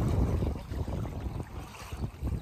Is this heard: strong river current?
yes